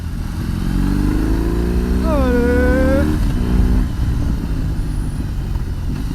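A 2021 BMW R 18 B motorcycle with an old-style boxer engine rides along a road in Germany, its loud, close drone rising in pitch as it accelerates through the gears, with a short word spoken at the start.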